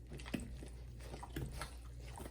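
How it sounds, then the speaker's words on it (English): Homemade bread mixture stirred to break up lumps, soft wet squishing and sloshing strokes repeating close up at low volume over a steady low hum, with no speech. "You just want to stir it and get that all out of there."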